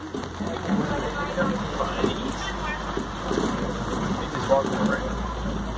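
Rain falls steadily around an open safari vehicle, a dense even patter mixed with wind rumble on the microphone, holding at a moderate level throughout with no talk.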